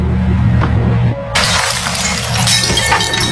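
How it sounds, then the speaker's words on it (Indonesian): Window glass shattering after being struck by a kicked football, a sudden loud crash followed by bright tinkling fragments that fade over a few seconds. "memecahkan kaca jendela."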